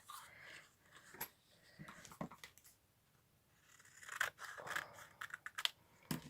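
Scissors snip paper close up while an explosion box is trimmed, giving a few quiet, crisp cuts separated by short pauses and growing busier toward the end.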